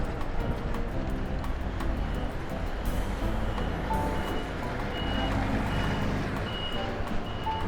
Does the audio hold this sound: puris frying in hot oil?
no